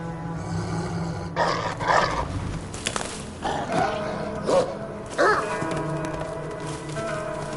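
A dog or wolf pup in AC Valhalla growls and snarls in several short bursts over a steady game ambience, close and fairly loud.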